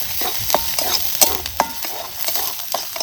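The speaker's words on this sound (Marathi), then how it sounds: "ही हळद सुद्धा आपल्याला मसाल्यात चांगली अशी भाजून घ्यायची" Home-ground turmeric roasting in a spice masala in a pan for village-style coriander bhaji: a steady close sizzle with intermittent sharp scrapes of a stirring spoon, and no voices.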